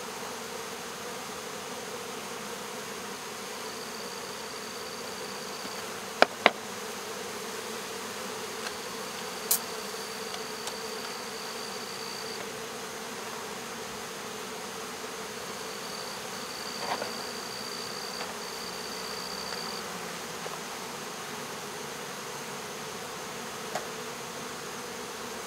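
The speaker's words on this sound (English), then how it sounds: "good pile of bees." A low, sustained hum of a honey bee swarm buzzing together, fairly faint and constant, with a few soft clicks and taps and no voices.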